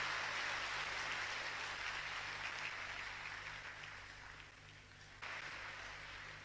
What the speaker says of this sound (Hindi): खूब हर्षित हो रहे हो तो खूब तालियां बजाओ।